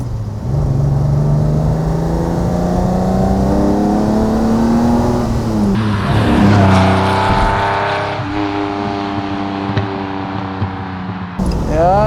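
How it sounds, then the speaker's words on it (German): A 1966 Ferrari 330 GTC with its V12 runs loud and close, holding a rising rev, then dropping and settling to a rougher idle before a sharp blip at the end. "Also der Motor hört sich sehr, sehr gut an."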